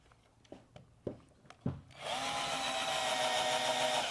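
A few light taps and knocks come first, then a cordless drill whirs into a steady, loud, high-pitched run that lasts to the end. No one speaks.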